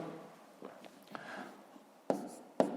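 Pen scratching numbers onto paper during a long multiplication exercise: soft, close scribbling strokes with a couple of sharper taps near the end, quiet and without talk.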